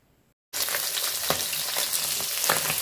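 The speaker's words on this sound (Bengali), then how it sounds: "তো এই জন্য হালকা একটু ভাজতেছি" Small fish such as gutum and baim fry lightly in a pan of oil. After a brief quiet moment, a loud, close, steady sizzle starts, with occasional crackling bursts and no voices.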